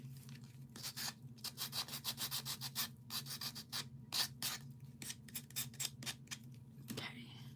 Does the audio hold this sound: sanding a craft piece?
yes